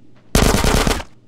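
Automatic gunfire in GTA San Andreas, a loud sustained burst of rapid shots lasting under a second that cuts off abruptly, with no talking over it.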